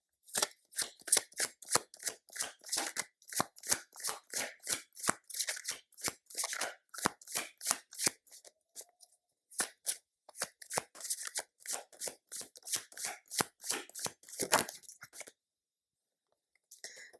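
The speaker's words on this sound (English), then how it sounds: "I'm gonna shuffle again." Tarot cards shuffled in quick crisp riffles, a steady run of rapid flutters with a short pause midway, then more shuffling before falling silent.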